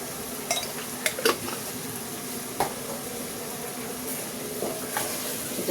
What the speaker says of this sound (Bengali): এটাকে আমি একটু কষিয়ে নিচ্ছি